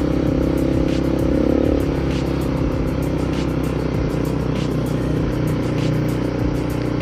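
A rented ATV engine drones steadily while riding on an adventure trail, a close, continuous mid-pitched motor hum with slight rises in revs and faint ticking, no voices.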